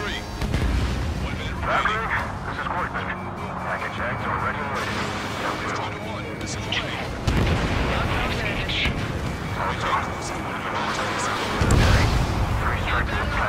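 Missile launches and explosions in the Ace Combat 7 air-combat game, a steady roar of jet engine and blasts with heavier booms near the middle and end, under radio chatter.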